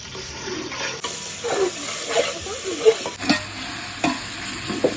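Masala for a two-kilo chicken biryani, with onion, green chili and ginger-garlic paste, fries in a pot under repeated stirring scrapes and clanks over a moderate sizzle, with no talking.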